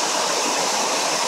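Steady, close rush of water pouring over rocks at a waterfall in Oneonta Gorge, a dense unbroken roar that stays even and loud throughout, with no voices.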